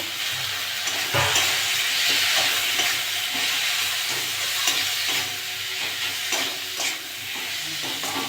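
Tomatoes added to a pan of spiced tilapia curry masala, frying with a steady close sizzle and hiss, with stirring scrapes and light clatters throughout.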